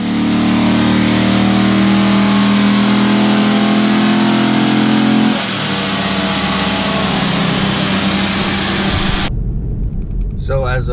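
An LS1-powered Pontiac Trans Am at a drag strip roars loudly under hard acceleration, engine note shifting midway before cutting off abruptly near the end.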